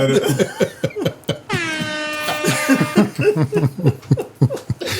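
A loud air horn blasts for about a second and a half, surrounded by bursts of laughter and chatter close to the microphone.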